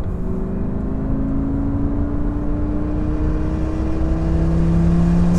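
A Lamborghini Gallardo pulls in third gear from about 40 mph, its engine drone rising steadily in pitch, loud and continuous from inside the car.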